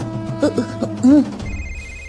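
A telephone rings with a warbling electronic tone, loud and close, followed by a thin, steady high beep.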